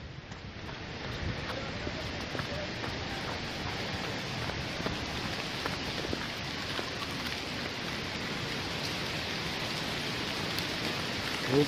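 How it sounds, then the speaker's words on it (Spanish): Heavy rain over the city of Cali pours down in a loud, unbroken roar of countless drops striking surfaces, constant from start to finish with no voices. "Fuerte lluvia acá en la ciudad de Cali"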